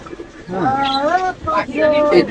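Pigeons coo in low, throaty, wavering calls, several overlapping phrases close by, with a busy pigeon-market background in Khulna.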